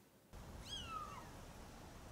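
One thin, high kitten meow sweeps downward over background hiss, faint and slightly distant, with no talking.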